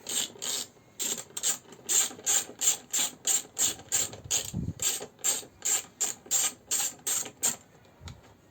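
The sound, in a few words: ratchet wrench unscrewing 10 mm nuts on Nissan Qashqai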